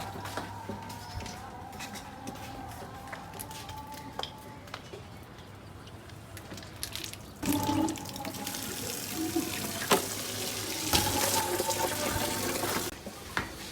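Tap water running and splashing while a pigeon loft tray is washed, steady faint flow with louder bursts of splashing and scrubbing, no talk.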